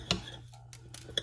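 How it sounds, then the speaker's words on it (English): A knife cuts corvina fish into bite-sized pieces on a board, with two sharp clicks of the blade a second apart and faint scraping between them. "So we're chopping this in our bite-sized pieces"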